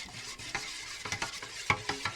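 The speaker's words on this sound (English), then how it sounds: "Give it a good old stir up." Brine being stirred in a pan, a quick run of short scraping and sloshing strokes close up, with a few sharper knocks of the utensil near the end and no voices.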